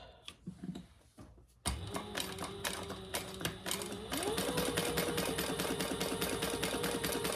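A sewing machine stitches around a box outline on fabric for a zipper pocket with a long stitch, a steady close mechanical whir and rapid ticking that starts after a few quiet clicks and runs on evenly.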